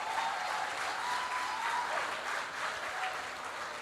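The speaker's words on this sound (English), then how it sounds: "I think we deserve a round of applause" An audience claps in sustained applause at a hackathon grand finale event, a dense, even wash of many hands that fades slightly toward the end.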